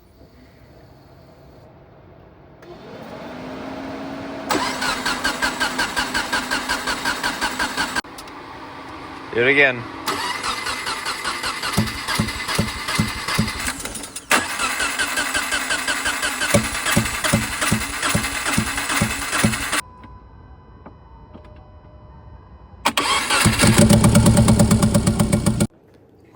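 A 2011 Subaru WRX engine, running on only two cylinders, cranks and starts several times, with rough, uneven idling between bursts of cranking and short pauses; people talk briefly in between.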